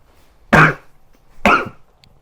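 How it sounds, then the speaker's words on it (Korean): Two sharp, close coughs from a man during a church sermon, about a second apart, each a brief harsh burst with quiet room between them. "기침 좀 잠깐만 할게요."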